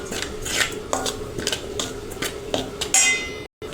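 A spoon clatters and scrapes in a bowl while turmeric, red chili powder and salt are mixed for peanut bhajiya batter, a run of repeated metallic strokes with a brief gap at the end, no talk.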